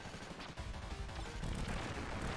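Dense gunfire and explosions rattle through a boss fight in the Contra: Hard Corps video game, a loud, continuous wash of shots and blasts with no pauses.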